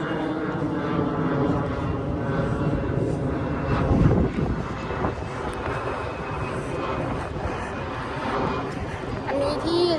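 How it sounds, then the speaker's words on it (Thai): An airplane near Don Mueang airport drones overhead, its engine rumble swelling and lingering while a person talks nearby in a park. "จะมีเครื่องบินนะคะผ่านเป็นระยะระยะค่ะ"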